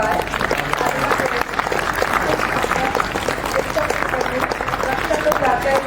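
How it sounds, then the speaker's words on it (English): Audience at a university seminar applauds in a steady, dense wash of clapping, with voices and cheers mixed through it and a faint spoken word near the end. "request you all to give a huge round of applause"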